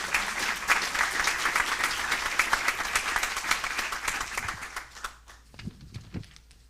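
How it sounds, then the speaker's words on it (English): A conference audience applauds speaker Ingrid at the World Inequality Conference 2026, dense sustained clapping from a full hall that thins out toward the end into a few scattered claps. "Can we please have a round of applause for Ingrid?"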